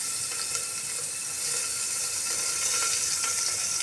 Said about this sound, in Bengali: আমি এখন এগুলো একটু আদাটা একটু ভেজে নেব।